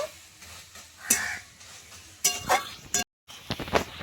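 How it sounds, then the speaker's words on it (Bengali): Fenugreek greens cooked with beans and eggplant are stirred in a pan after sugar goes in, with scraping strokes and a soft sizzle, a few louder bursts of utensil contact and a brief drop to silence, and no talk. "চিনি দিয়ে আমি এক মিনিট মতো নেড়ে নেব"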